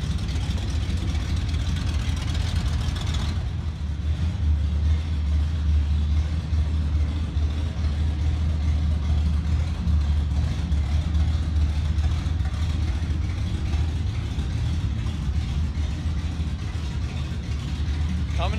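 A 1969 Plymouth Road Runner engine runs steadily at close range, a deep continuous rumble that holds for the whole stretch and picks up slightly after the first few seconds.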